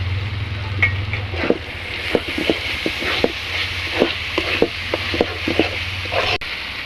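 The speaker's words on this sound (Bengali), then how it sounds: "আর এখন এর মধ্যে আমি দিয়ে দিচ্ছি মুগ ডাল।" Mung dal fries in a pan with chicken gizzard and liver, a close, fairly loud sizzle broken by repeated short scraping stirs at an even pace, and no speech.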